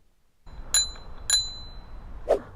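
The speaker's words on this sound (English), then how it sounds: "and a rolling bell" A handlebar bell on a Rictor S9 electric scooter rings three times in separate bright dings, clear and close, with a low background rumble between strikes.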